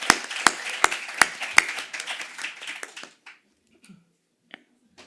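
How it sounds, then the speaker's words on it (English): Scattered claps from an audience at a climate risk committee session, a few sharp nearby claps over a soft patter, thinning out and stopping after about three seconds, followed by quiet room noise and a few faint taps. "Can we give them a round of applause as they make their way up?"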